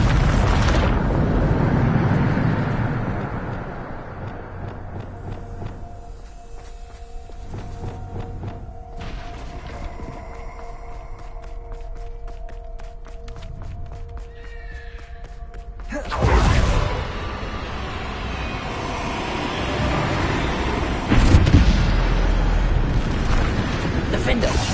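A Bombarda blasting spell in Hogwarts Legacy, heavy booming explosions with rumbling low-end tails, one early and another later striking hard and loud, with game music tones and a voice speaking in between.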